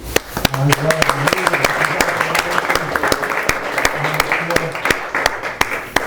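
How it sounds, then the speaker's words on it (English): Audience applause at a rabbi's lecture on Sefirat HaOmer: a steady, dense wash of clapping with sharp individual claps, holding for about six seconds while a speaker's voice carries on beneath it. "So I want to give a round of applause to Rabbi,"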